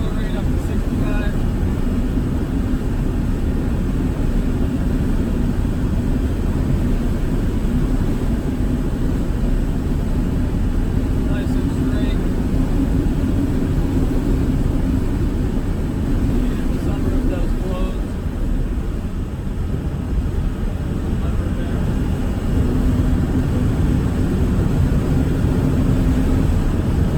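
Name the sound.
1991 Land Rover Defender 110 200tdi accelerating in fifth gear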